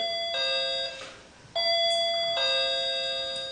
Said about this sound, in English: Let's get that doorbell fixed.